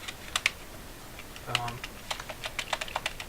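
Rapid keyboard clicks patter in uneven bursts, close and crisp, with a brief voice in the middle, from the detachable keyboard of a Casio WM-320MT calculator.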